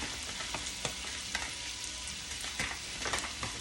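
Sausage grease, butter and flour sizzle and fry in a pan, a steady loud hiss broken by scattered sharp pops and crackles, close by with no talking.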